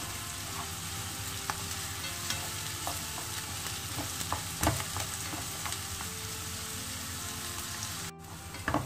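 Chicken pieces sizzle steadily in a frying pan for savory crêpe filling, with scattered scraping clicks of a utensil stirring through the hot oil, moderately quiet and close.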